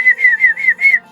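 A person whistles a short, lilting tune of five quick rising-and-falling notes, close and clear, imitating an idle prisoner in a cell.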